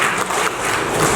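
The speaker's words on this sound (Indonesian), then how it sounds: "Tepuk tangan dulu." Brief, steady applause from an audience at an official handover ceremony, a full wash of clapping filling the short moment without any voices.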